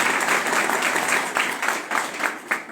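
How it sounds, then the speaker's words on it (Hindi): Loud, steady applause from an audience at a network marketing seminar, a dense wash of clapping with small surges that holds for the full stretch without any speech over it. "तो एक बार जोरदार तालियां"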